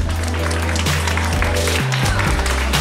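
Spectators clap for a young girl who won her category at the Cyklokarpaty cycling race in Strzyżów. The continuous applause sits under loud, bass-heavy music playing over the outdoor podium ceremony.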